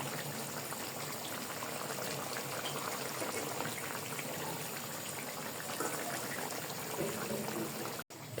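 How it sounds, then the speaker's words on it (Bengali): Pieces of layer chicken simmer with hot water in a pot, producing a soft, continuous bubbling hiss at low volume. The sound is even and unbroken, with no voices. "আমি এইভাবেই কিছুক্ষণ পরপর গরম পানি দিয়ে মাংসগুলোকে কষিয়ে নেবো"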